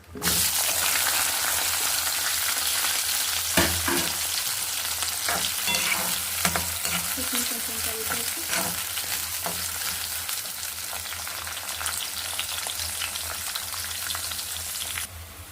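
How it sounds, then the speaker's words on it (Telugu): Cumin, dried red chilies and onions frying in hot oil in a pan, a steady loud sizzle throughout, with occasional stirring scrapes and clinks up close. "కొంచెం జీలకర్ర ఎండుమిరపకాయలు అవి కొంచెం ఫ్రై అయినాక ఆనియన్స్ వేసుకోవాలి"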